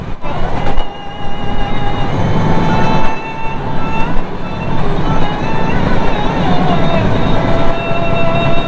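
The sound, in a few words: train running through Jamdia station without stopping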